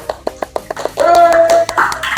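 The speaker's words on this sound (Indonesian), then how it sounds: "Oke, tepuk tangan semua." A small group at a student podcast recording claps, a few separate sharp claps at first, then a brief burst of clapping mixed with voices and a sustained tone.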